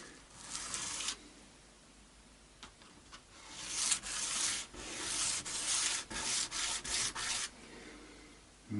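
Sanding a guitar nut during a Vintage V6 Strat setup, heard as close, rasping rubbing strokes repeated in an uneven rhythm, with short pauses between the passes.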